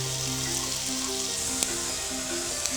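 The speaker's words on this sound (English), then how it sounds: "these need to be stirred until they are lightly browned" Chopped onions frying in a pan as they are stirred toward light browning, an even, dense sizzle with a faint click or two, steady and unbroken, with a soft musical tone in the background.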